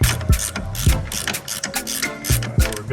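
A hand ratchet tightens suspension bolts on a BMW E92 M3 while H&R springs and Bilstein shocks are fitted. It makes rapid, close, loud clicking strokes in quick bursts with a few heavier clunks, and no one speaks.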